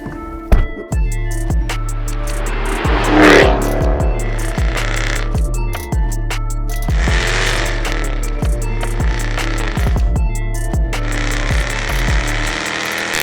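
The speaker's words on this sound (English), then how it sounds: "'22 Jaguar F-Type R without launch control. Brake boost." A 2022 Jaguar F-Type R with a supercharged V8 roars through a hard launch, a loud engine with a strong low harmonic drone that climbs in pitch, cuts briefly at each gear change and pulls again, close and steady with no speech over it.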